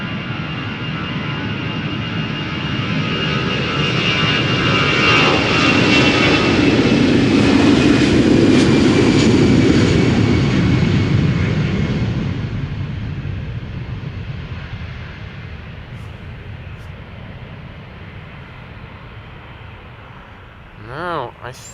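An EasyJet Airbus A320 jet bound for Milan Malpensa roars past at an airport, swelling to a loud peak midway and then fading into a distant rumble, with a voice talking over it.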